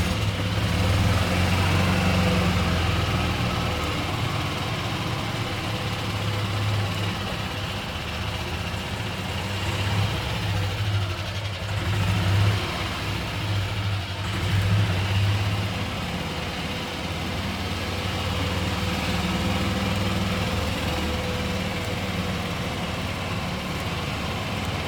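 A car rolls slowly past racetrack grandstands, its engine a low steady hum and idle-like drone carrying on evenly throughout at moderate loudness, with no talking.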